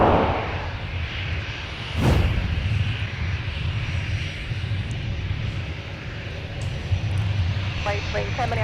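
American airliner that has just touched down at Minneapolis–Saint Paul airport, a broad roaring engine rush from a distance with a brief louder swell, steady throughout, with faint radio chatter beneath.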